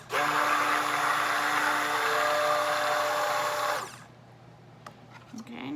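A stick blender whirs through soap batter with green colorant and fragrance for a cherry limeade soap, a loud, steady high-pitched motor drone lasting about four seconds before it cuts off into quiet with faint clicks.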